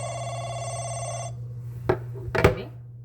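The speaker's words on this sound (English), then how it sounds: "And now this is ringing." A DokiWatch S kids' smartwatch rings with an incoming call: a steady electronic ringtone plays close by for about a second, then stops, followed by two soft taps and a brief rustle.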